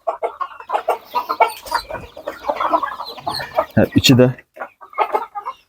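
Andijan black hens clucking steadily at close range, a busy run of short repeated clucks with a voice talking over and between them.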